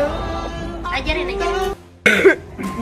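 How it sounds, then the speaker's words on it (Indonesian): A person coughs once, sharp and close, after a stretch of casual indoor talk and a brief pause. "Batuk dulu."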